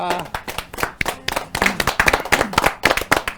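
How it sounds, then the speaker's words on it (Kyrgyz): Audience clapping in applause at a Kyrgyz family celebration, a dense run of hand claps close by that holds steady for several seconds with voices mixed in underneath. "Кол чаап туралы"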